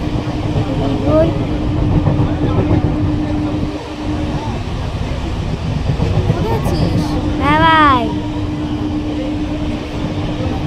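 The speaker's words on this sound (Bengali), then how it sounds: "আমরা এখন ট্রেনে আছি। এই দেখো ট্রেন যাচ্ছে" Steady rumble and rattle of a moving train heard from inside a carriage, a constant low hum beneath ongoing chatter, with a brief rising tonal sweep near the end.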